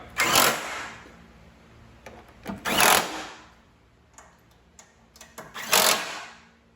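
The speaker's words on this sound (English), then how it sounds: "go ahead and tighten the bolts down with a 10 millimeter socket" A ratchet with a 10 mm socket tightens bolts on a Fiat 500 Abarth during a turbo and exhaust manifold install, giving three quick bursts of rapid clicking separated by pauses and a few faint taps.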